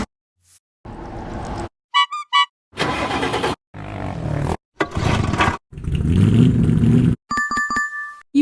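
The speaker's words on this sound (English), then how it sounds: "Sound is antique car." An antique car engine cranks, sputters and revs in a series of loud, close bursts separated by short pauses, with brief ringing chimes between some of them.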